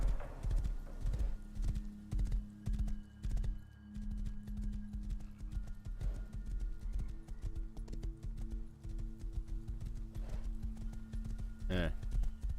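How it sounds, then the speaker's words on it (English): A horse's hooves clip-clop steadily while being ridden in the Rust video game, a loud, close, rapid rhythmic clatter running throughout, ending with a brief whinny near the end. "Either way, jump on a horse, start riding around"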